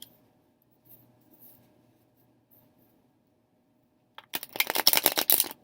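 Quiet at first, then a burst of rapid riffling as a deck of oracle cards is shuffled up close.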